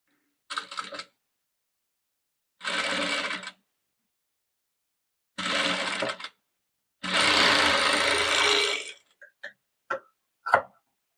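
Sewing machine stitching piping onto a nighty, running in four separate bursts of rapid mechanical stitching, the last one longest, followed by a few short clicks, close and with silence between.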